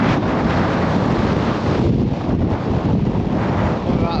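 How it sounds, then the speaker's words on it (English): Strong gusts batter the microphone on Blackpool promenade, a dense roaring rumble with a jacket hood flapping noisily throughout, loud and close, with no clear talk. "this hood's quite annoying flapping about in the wind"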